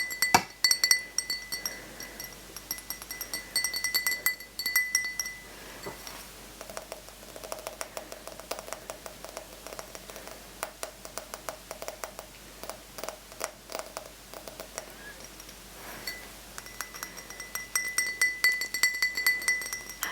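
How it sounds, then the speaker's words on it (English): A thick-bottomed drinking glass that thins toward the rim is tapped and clinked over and over, giving bright ringing chinks in irregular clusters, close up and quiet, with brief pauses between runs. "The glass is so thick, the bottom is so thin at the top, the range of sounds is really good."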